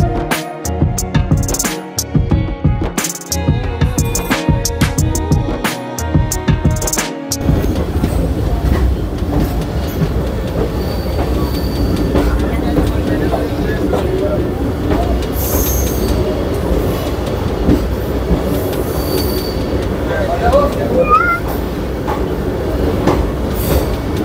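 Shri Ganganagar–Rishikesh Express passenger train rolling through Jwalapur without stopping, loud steady rumble with rhythmic wheel clatter and brief squeals, sharper clanks early on, continuous throughout.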